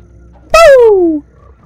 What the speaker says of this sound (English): so that's what I could hear. A real life frog.